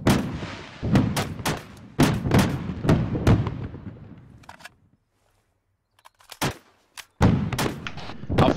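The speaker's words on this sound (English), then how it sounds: "Rounds incoming, get small if you're in infantry" Artillery rounds hitting in Arma 3: a rapid run of heavy, booming impacts and thuds, close and loud, then a brief near-silent pause, a few scattered blasts, and another dense barrage.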